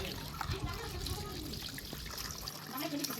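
Water drains off chicken pieces washed with turmeric, a close steady trickle and splash that runs continuously before easing near the end.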